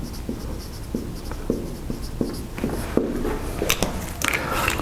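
Chalk or a marker scratches and taps across a board during a university electrical engineering lecture, a close run of short strokes and clicks with no talking.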